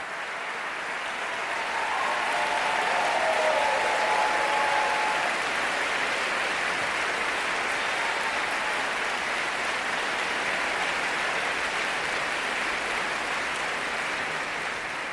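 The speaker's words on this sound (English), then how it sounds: "Let's give them a round of applause." An audience at an environmental prize ceremony applauds past prize winners, a broad, even wash of clapping that swells after a couple of seconds and holds steady.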